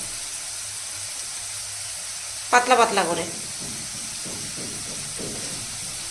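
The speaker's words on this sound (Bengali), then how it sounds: "এদিকে এই আলুটা ভাজা বসিয়েছি" Thin potato slices frying in a pan give a steady broadband sizzle throughout, close and moderately loud, while someone speaks briefly partway through.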